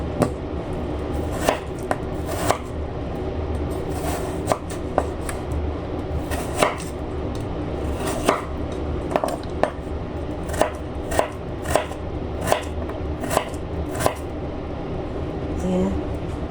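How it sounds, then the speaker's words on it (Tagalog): A knife slices potatoes into small pieces on a cutting board, with a series of sharp, irregularly spaced chops, close and clear, while a person talks throughout. "Slice natin ng maliliit yung ating patatas guys."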